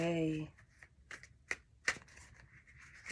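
A short bit of voice, then soft riffling and snapping of cards being shuffled, with a few sharper slaps, close and quiet.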